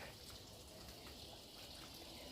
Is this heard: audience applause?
no